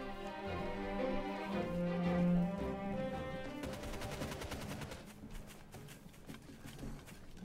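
Video game machine gun fire rattles in rapid, moderately loud bursts during a strategy match, the steady clatter running over a background of game music and effects.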